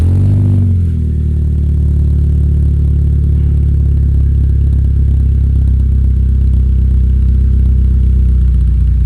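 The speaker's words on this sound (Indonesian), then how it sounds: "Kita langsung nyalain mobilnya." A BMW E36 engine cranks briefly and then settles into a steady, even idle, its low rumble loud and close, running alone for the rest of the clip.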